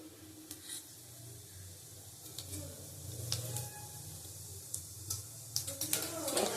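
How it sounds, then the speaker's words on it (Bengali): A spoonful of panch phoron spices crackles and sizzles in hot oil, a quiet steady frying hiss broken by scattered small pops that grow busier toward the end. "এক চামচ পাঁচফোড়ন দিলাম।"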